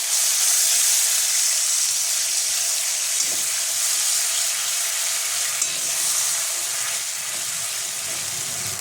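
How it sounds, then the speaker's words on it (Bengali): Water from rinsing a grinding stone is poured into spice paste frying in oil, raising a loud, even hiss of sizzling and steam that holds steady throughout. "দিয়ে দিলাম শিলপাটা ধোয়া জলটা।"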